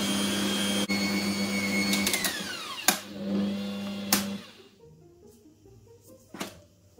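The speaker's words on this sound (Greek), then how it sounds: "Χτυπάμε καλά και μετά κλείνουμε το μίξερ για να βάλουμε όλα τα υπόλοιπα υλικά." An electric mixer whirs loudly and steadily through vegan carrot cake batter, then cuts off after about four seconds. A few light clinks and knocks follow in the quiet.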